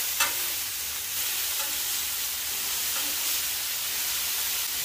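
Smash burgers sizzle steadily on a Blackstone griddle right after flipping, giving a loud, dense hiss with a few faint scraping ticks and no voices.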